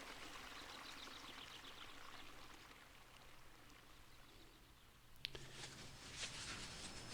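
A spring creek rushes in a continuous, soft hiss of flowing water, faint and steady, with a brief brighter splash near the end and no voices.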